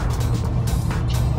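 A Tesla Model 3 pulling a trailer accelerates at full throttle in chill mode, heard as a low, steady rolling rumble with road and wind noise that swells and surges briefly.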